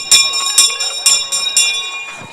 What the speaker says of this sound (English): Christabel, ring the bell.